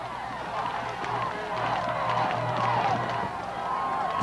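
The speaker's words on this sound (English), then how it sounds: "Listen at this crowd." Crowd noise from fans at a Class 3A state playoff football game in the fourth quarter, a steady roar of cheering with a loud band or chant underneath throughout.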